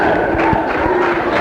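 An excited crowd roars steadily in a dense, continuous mass of voices with rising shouts, at a live comedy event, staying loud throughout.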